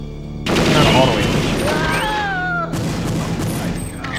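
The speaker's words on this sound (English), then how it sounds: "Hope all these gun sounds are completely overpowering my speech." Dense, loud gunfire from the video game Perfect Dark, a sustained roar of overlapping shots with whining tonal effects, continuing steadily for several seconds.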